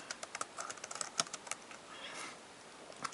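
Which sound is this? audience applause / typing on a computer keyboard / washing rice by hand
typing on a computer keyboard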